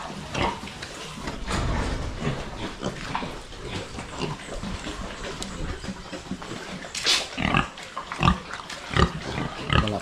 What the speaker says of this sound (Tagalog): At yung andito, purgahin natin ito mga kaprobinsya, yung ating mga biik.